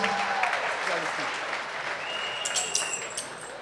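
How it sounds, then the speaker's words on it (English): A church congregation at a worship service claps in praise, sustained applause from a large crowd that continues under voices and a few higher tones. "Clap for that Lord Jesus."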